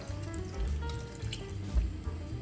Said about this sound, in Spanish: Agregamos un poco más de agua.